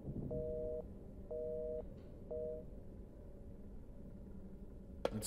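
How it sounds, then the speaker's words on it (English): A telephone busy signal in Resident Evil Village beeps in three evenly spaced tones over quiet room ambience, followed by a sharp click near the end. "It's busy."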